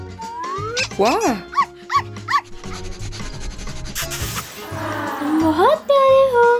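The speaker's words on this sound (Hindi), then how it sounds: "ये मेरा कुत्ता है।" A cartoon dog from a children's playhouse adventure story barks in short bursts, mixed in with lively background music and animated character voices talking over it.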